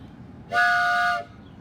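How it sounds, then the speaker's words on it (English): One short, steady train whistle blast, a clear tonal toot lasting under a second over low background rumble. "they heard a loud whistle"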